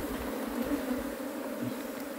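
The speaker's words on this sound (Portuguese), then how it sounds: "Esse ano tá vindo uns enxame grande, né?" Steady, close droning hum of a big bee swarm being collected in a shed, many wings buzzing together without pause and no voices.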